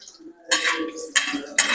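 Metal spoon scraping and clinking against a pot while chicken stew is stirred in catering style, three bursts of stirring close up with no talk.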